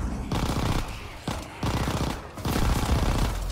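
Sustained automatic gunfire from Call of Duty: WWII Nazi Zombies, loud and dense, with rapid bursts rolling across a short stretch of frantic zombie-fighting action and brief gaps between volleys.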